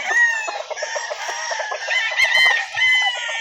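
A three-year-old Golden Boy Pure gamefowl rooster at a breeder's farm in Calauan, Laguna crows loudly and close, one long continuous call with no other sounds.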